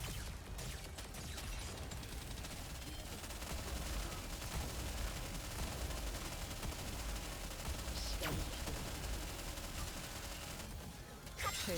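Volley gunfire in the game NIKKE makes a dense, continuous rattle of rapid shots and impacts, loud and sustained for the whole stretch, with a voice faintly underneath.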